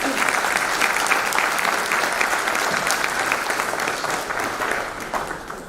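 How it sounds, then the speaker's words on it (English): An audience applauds loudly at the closing of a disaster management technology conference, a dense, even wash of clapping that continues for several seconds and eases slightly toward the end. "the last round of applause for yourself"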